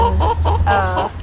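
Backyard hen, the oldest bird in a chicken coop, clucking in a steady run of close, soft calls over a low background hum, with no one speaking.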